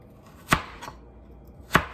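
Knife slicing a carrot diagonally on a cutting board, two sharp clean chops about a second apart with a fainter tap between, close and quiet.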